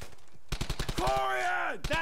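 Rapid bursts of gunfire in the WWII shooter Brothers in Arms: Hell's Highway crackle loudly for half a second, then give way to a shouting voice that carries over the noisy battle.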